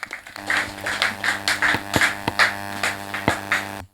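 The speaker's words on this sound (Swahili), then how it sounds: "Ongeza makofi kwa Yesu." Applause at a funeral service, a crowd clapping in an uneven rhythm with sharp claps standing out over a steady electrical hum, loud and close, with no talking.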